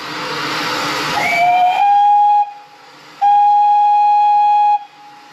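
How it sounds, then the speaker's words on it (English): A pannier tank steam locomotive on the Gwili Railway hisses with escaping steam, then sounds two loud, clear whistle blasts, the second one longer. "Here you can see the pannier tank that will be pulling us back up the line on the head of the train."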